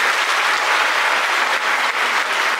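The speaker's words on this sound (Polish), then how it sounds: "Wielkie brawa." A large concert audience at a charity event applauds, a dense, even wash of clapping close and loud with no pauses.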